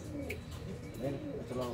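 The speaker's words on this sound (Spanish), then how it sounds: "para que vean la gente cómo están las palomitas, miren cómo las tengo" Pigeons kept in a coop cooing in soft, low, overlapping calls through the whole stretch, with faint background noise and no clear talk.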